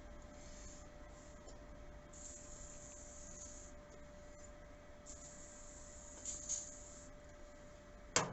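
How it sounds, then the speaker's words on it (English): WD-40 sprayed onto the disassembled rocker parts of a Humber Super Snipe Mk IV engine during a clean-up: several close, hissing aerosol bursts of varying length, with a sharp knock at the end and no talk. "WD-40, clean it up a bit."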